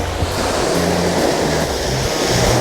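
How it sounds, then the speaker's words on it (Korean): Large sea swells roll and crash continuously in a broad, loud wash of surf at a fishing spot on the coast, with a low rumbling undertone throughout. "너울 파도는 엄청 크게 일고"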